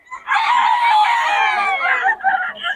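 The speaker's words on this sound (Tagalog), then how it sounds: "Mga manok ni Boss Jun." A rooster from Pampanga crows loudly and close in one long drawn-out call, trailing into a couple of shorter broken notes at the end.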